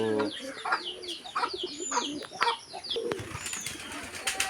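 Pigeons coo and flutter their wings at a pigeon farm where chickens are also kept, with chirps and clucks scattered over a busy background of close and distant bird calls.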